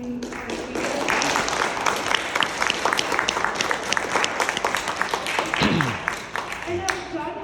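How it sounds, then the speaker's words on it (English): Applause from an audience at a speaker series event on the Nike supply chain fills the room, a dense wash of clapping with brief murmurs and voices mixed in. "can we all give a big round of applause to our speakers?"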